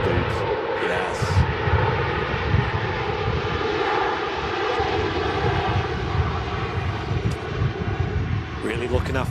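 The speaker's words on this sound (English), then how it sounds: "Really looking after that nose gear on the Ryanair there. Smooth as ever, touching down gracefully." A Ryanair airliner touching down at Manchester Airport on a windy day makes a continuous engine rumble and roar, with voices talking over it throughout.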